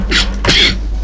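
A single close, loud sneeze indoors during a talk: a quick sharp intake followed by an explosive burst, over a steady low hum in the room.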